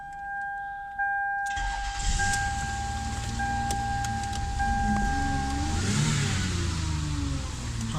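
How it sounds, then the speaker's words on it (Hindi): A 2005 Toyota Camry engine idles and revs after being started, a loud steady rumble with rising engine pitch and a high whine fading out partway through. "गाड़ी स्टार्ट है"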